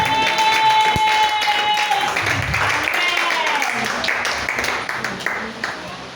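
Church congregation breaking into applause and acclamation, a dense wash of clapping and voices that fades gradually, with a held sung or spoken tone at the start and someone speaking over it.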